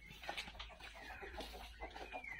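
Several Silkie chickens cluck and chatter softly nearby in short, irregular bursts, with a faint low hum underneath and no talking.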